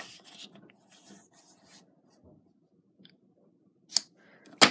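A Stampin' Up! envelope punch board punching and creasing paper: soft rubbing and scratching of paper at first, then two sharp, close punch snaps near the end, with no talking.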